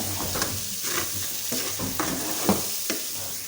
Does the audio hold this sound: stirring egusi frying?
yes